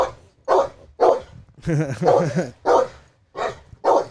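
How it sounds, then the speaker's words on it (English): A dog barks repeatedly close by, about six sharp evenly spaced barks with a longer whining yelp in the middle, loud against a quiet room. "It's a sweet dog."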